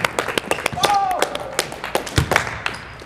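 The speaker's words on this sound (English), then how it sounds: "Clap it up. Clap it up." Scattered claps from a few people on a basketball court during free-throw practice, sharp irregular hits over a couple of seconds, with voices talking and calling out between them.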